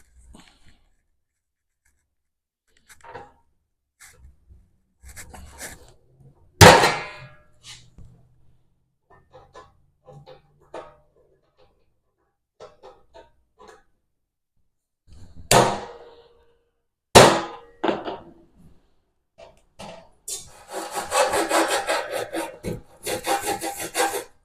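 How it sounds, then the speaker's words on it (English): Hand snips cut away sheet metal to let in a side flange on a large portable tool box: scattered crisp snips and clanks, then a dense rasping stretch of cutting at the end, with no talking. "I just got to cut away a little bit of this to let in the"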